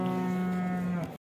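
A large second-lactation dairy cow at the Chintamani Sunday cattle market lets out one long, steady, close moo lasting about a second, clear and unaccompanied by talk.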